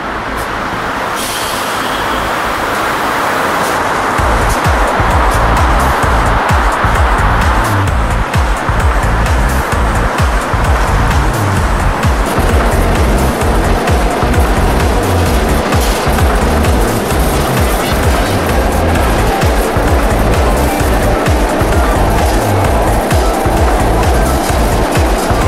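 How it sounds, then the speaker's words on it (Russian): An electric commuter train rumbles past at close range on a bridge in central Moscow, a steady, loud rolling roar with rhythmic clatter from the wheels that continues the whole time. "Навстречу нам едет электричка."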